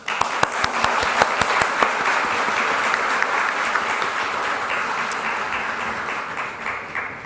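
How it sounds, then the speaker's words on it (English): Audience applause for a conference panel on Atlantic Ocean science, steady dense clapping that starts strong and slowly fades toward the end. "I'd like to ask for a round of applause, both for their remarks and for the substantive work that went behind all of what they talked about today."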